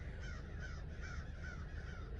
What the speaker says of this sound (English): The birds are chirping, they're going crazy in the sky